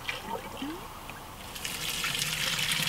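Septic effluent flushing out of a lateral line, a steady close gush and trickle of liquid with no talking.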